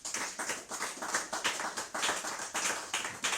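A church congregation claps in praise of Jesus Christ, a steady, dense round of many hands close by, with rhythmic bursts continuing for several seconds and no talk over it.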